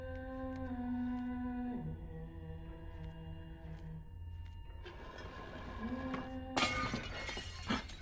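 A vase shatters in the dark horror video game Little Nightmares, a sudden loud crash with scattered breaking debris near the end, over a droning ambient game soundtrack with a sustained low tone.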